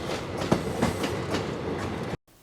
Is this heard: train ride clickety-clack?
yes